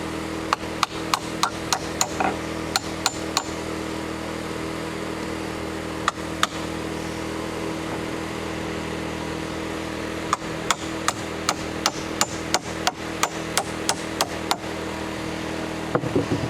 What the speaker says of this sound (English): We're going to take this board and we're going to nail it on the end.